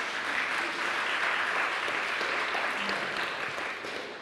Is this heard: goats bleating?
no